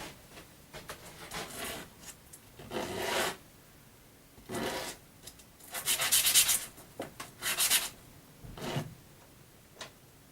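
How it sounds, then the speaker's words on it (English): Sandpaper rubbing over a glued wooden segmented bowl in short, uneven bursts of gritty scraping, fairly quiet and close, with pauses between strokes. "So I'm just going to sand it up and get rid of some of these fuzzies."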